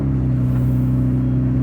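A loud car engine holds a steady, deep idling rumble close by, constant for the whole moment with no voices over it.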